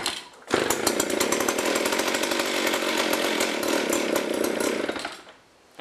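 A McCulloch ProMac 610 chainsaw engine fires up and runs loud and close for several seconds with a rough, pulsing buzz, then cuts out abruptly.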